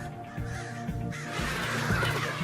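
Crows on a university campus caw repeatedly at a mask, several harsh calls overlapping at moderate distance over faint outdoor background.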